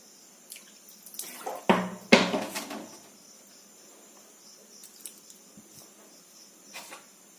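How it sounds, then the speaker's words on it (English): Water poured into a plastic glass for a school science test for carbohydrates, protein and fat: a short splashing pour of a few seconds, followed by faint drips and quiet room noise. "I'll put few drops of water"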